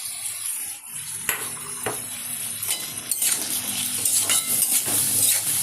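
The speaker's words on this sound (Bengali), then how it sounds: "ভালো করে তেলের মধ্যে নাড়াচাড়া করে" Cumin powder, sugar, salt and turmeric being stirred into hot oil in a pan, with a steady sizzle and scraping, clinking utensil strokes against the metal, loud and close.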